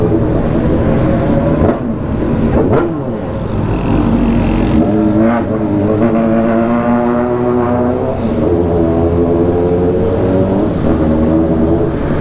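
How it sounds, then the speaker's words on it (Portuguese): Several motorcycle engines in a convoy drone and rev together, loud and continuous, with rising and falling pitch as bikes pass close by. "Muita moto no comboio"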